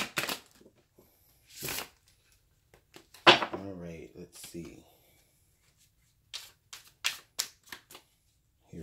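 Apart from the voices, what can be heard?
shuffling tarot cards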